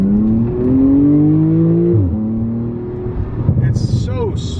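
A Porsche 911 Turbo of the 991 generation with a Soul exhaust pulls hard in second gear in Sport Plus, its engine note rising loudly, dipping briefly at a shift, then building again, heard from inside the car.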